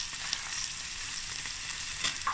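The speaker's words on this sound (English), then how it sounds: "Okay, frying away." South African sausage fries in a pan with a steady, close hiss and crackle, a constant sizzle broken by small pops and spits, with no talking.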